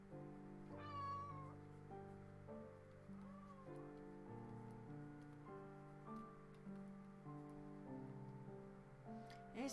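A young pet cat meows a few times, with short, clear calls spread over several seconds against a faint background of soft, steady music.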